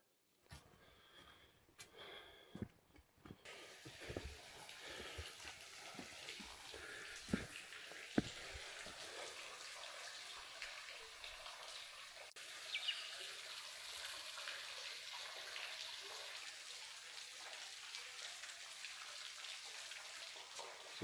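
The waterfall at the Den of Nargun, backed by a small cave system, gives a soft, continuous rush of falling water, with a few faint knocks and rustles early on and no talking.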